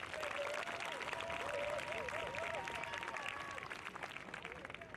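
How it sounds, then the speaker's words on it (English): Graduating high school students at Frankford High School applaud themselves, a dense crowd clapping steadily throughout, with voices calling out over the applause. "Give yourselves a round of applause."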